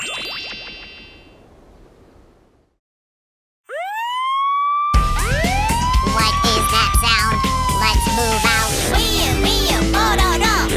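A cartoon ambulance siren wails in rising and falling sweeps, loud and close, after a short chime and a gap of silence, with bright clanging tones mixed in.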